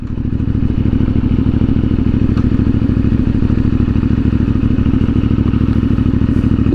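CFMOTO 450MT motorcycle with its stock exhaust, heard while being ridden: a steady, loud, close engine drone with a rapid low pulsing throb and no talking.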